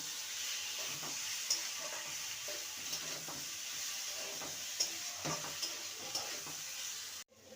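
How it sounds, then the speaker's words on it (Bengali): Fried yardlong bean pieces are stirred into a cooked-down spiced masala in a pan, giving a low continuous sizzle with intermittent soft scrapes and clinks of the spoon, quiet and close, cutting off abruptly near the end. "এবার ভেজে রাখা বরবটির টুকরোগুলো দিয়ে দেবো ভালো করে নেড়ে নেব মশলার সাথে"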